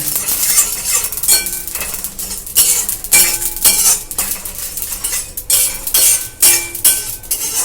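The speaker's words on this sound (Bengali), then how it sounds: "পোস্তটাকে ভালো করে নাড়তে হবে নাহলে কিন্তু পুড়ে যেতে পারে" A metal utensil scrapes and clinks against a pan in repeated stirring strokes as poppy seeds dry-roast, close and fairly loud, with a faint dry rustle of seeds.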